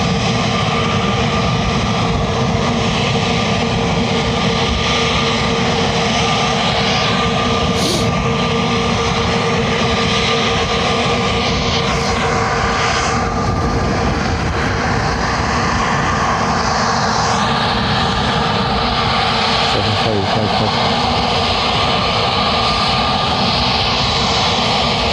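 Ryanair airliner jet engines roar steadily at Lanzarote Airport, a loud, continuous broadband rumble and whine filling the whole stretch without a break.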